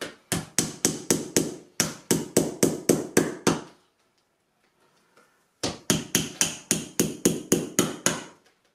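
Wooden side rails of an Ashford Kiwi 3 spinning wheel being tapped down onto dowels in sharp, evenly spaced knocks, three runs of about seven to eight blows with a quiet gap before the last run.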